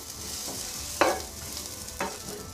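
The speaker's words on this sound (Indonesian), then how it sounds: "Tumis bawang putih yang sudah digeprek tadi." Crushed garlic sizzles steadily in hot oil in a pan, with a few sharp stirring scrapes cutting through the close frying hiss.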